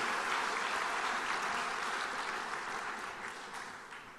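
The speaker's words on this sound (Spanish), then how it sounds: "Vamos a darle un aplauso al Señor" Congregation applauding in a church service, a broad, even wash of clapping from many hands that gradually tapers off toward the end.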